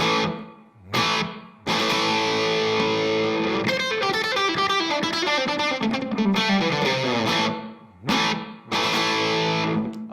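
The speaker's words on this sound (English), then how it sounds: "I'm going to put a little more distortion on it" Heavy distorted electric guitar plays chugging, palm-muted chords in a tight rhythm, with brief gaps where the chords cut off sharply.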